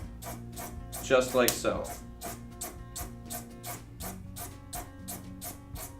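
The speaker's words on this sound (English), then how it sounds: "I'm going to just sand this down" A part for a model airplane is sanded down by hand in quick, close, scratchy back-and-forth strokes with a firm rhythm, while someone speaks briefly over the rubbing.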